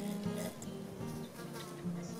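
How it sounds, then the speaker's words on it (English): Male Thynnine flower wasp held in a jar in coastal sandy heath, giving a steady close-up buzz with a harmonic drone that shifts pitch slightly as it flies against the glass. "I have, in this jar, a male flower wasp."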